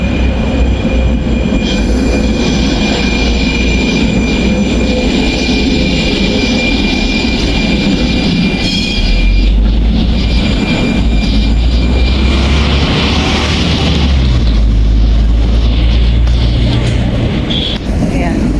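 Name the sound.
train passing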